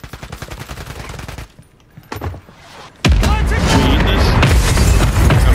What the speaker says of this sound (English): Mortar. Mortar. Watch the skies.